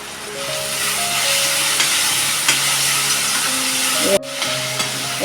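Onion with a pinch of asafoetida cooking in a pan for a Konkan wild mushroom curry, a steady loud sizzle with a few spoon scrapes and clinks, briefly cut off near the end.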